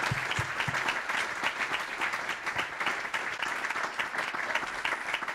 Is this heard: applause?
yes